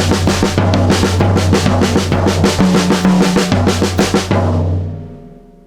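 Loud, driving accented triplet pattern on a full drum kit, with rapid rhythmic strokes across drums and cymbals ending in a ringing cymbal that fades out.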